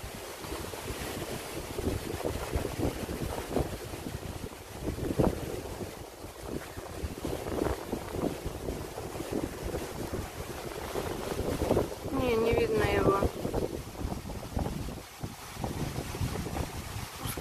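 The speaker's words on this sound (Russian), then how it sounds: "Вот это вот погодка сегодня. Вот это вот волны, прям как на море." Strong wind and choppy waves on open water. Steady gusts buffet the microphone and surf washes constantly, with a brief higher rush partway through and no voices.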